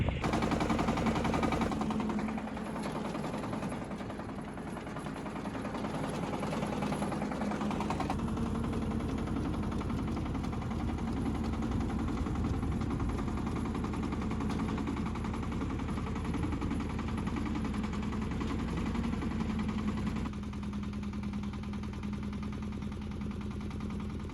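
A vehicle's engine runs loud and steady for the whole stretch while driving between raspberry plots, a rough, vibrating drone with no pauses and no voices over it.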